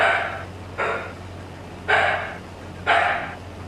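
A dog barks four times in short, loud, evenly spaced bursts over a low steady hum, with no other voices.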